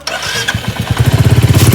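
Motorcycle engine starting up nearby, a few uneven sputters that settle quickly into a fast, steady idling putter, loud and close.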